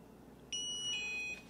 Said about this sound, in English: press and hold the small button for a couple seconds until you hear it beep